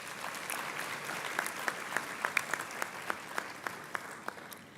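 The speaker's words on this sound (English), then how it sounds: "give a round of applause to all those who have joined us here this afternoon" Graduates applaud guests during a University of the Free State graduation ceremony, a fairly soft wash of crowd clapping with a few distinct nearby claps standing out in a steady rhythm.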